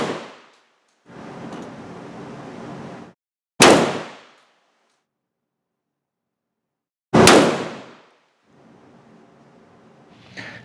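Two sharp, loud shotgun blasts from Noble Sports low recoil buckshot ring out several seconds apart outdoors, each decaying quickly, with quieter rustling and handling noise between them.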